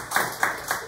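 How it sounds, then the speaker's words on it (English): Brief bursts of audience applause at a comedy show, three short swells of clapping over about a second, moderately loud with a steady tone running underneath. "Give him a round of applause"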